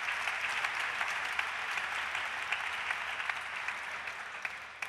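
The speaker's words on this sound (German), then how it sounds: "Großen Applaus." Moderately distant audience applause at a business conference on digitalization, an even wash of many hands with occasional sharper claps standing out.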